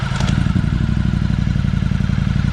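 A Ducati Streetfighter V4S motorcycle idling in neutral, a loud, close, lumpy engine throb with a fast even pulsing beat and some mechanical clatter, running alone with no voices.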